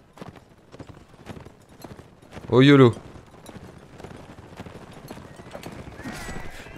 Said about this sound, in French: il y a l'air d'avoir pas mal encore d'unités à cheval